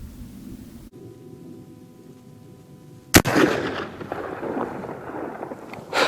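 A single loud gunshot from a late-production Winchester 1886 takedown lever-action rifle cracks out midway, followed by a rolling outdoor echo and rumble after a quiet stretch.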